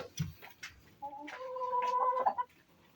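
A broody Gurk hen clucks softly nearby, giving a few low short clucks and then a drawn-out, wavering, tonal croon, fairly quiet against a calm background.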